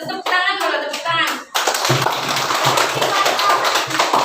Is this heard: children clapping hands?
yes